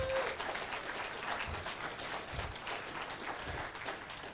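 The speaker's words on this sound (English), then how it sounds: "Round of applause for whoever that torrent person is." Audience applause at a security conference talk, a continuous patter of many hands clapping, somewhat distant and moderately quiet throughout.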